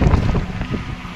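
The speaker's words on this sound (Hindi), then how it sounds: "हवा बहुत ज्यादा जोर है" Strong wind buffets the microphone outdoors during a rainy summer evening in Dhemaji, a loud rumbling gust that roars across the whole short moment with no speech.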